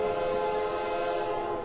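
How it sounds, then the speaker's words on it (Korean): A train whistle sounding as the train departs into the darkness, one loud, long, steady harmonic blast held for the full length of the clip over a low rumble. "이내 열차는 어둠 속으로 길게 기적을 남기며 사라져버렸다."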